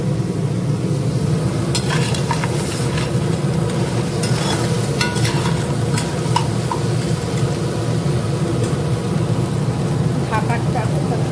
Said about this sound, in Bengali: এখানে পেঁয়াজ রসুন আর টমেটো দিয়ে দিয়েছি, দিয়ে নাড়ছি।